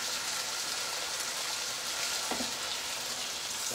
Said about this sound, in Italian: Facciamo rosolare, non bollire.